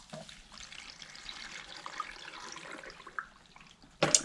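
Water scooped and poured into a Fluval FX6 canister filter during priming, a continuous splashing trickle of moderate loudness, ending in a short sharper splash or clunk, with no one talking.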